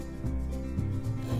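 A homemade wooden scrub plane takes thick, chunky shavings off a board, heard as three or four rough, rasping strokes in a steady rhythm, close and fairly quiet, with no talking.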